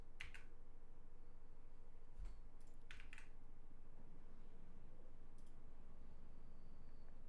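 A few sharp keyboard clicks in quick bursts, sparse and separated by pauses, over a steady low background hum.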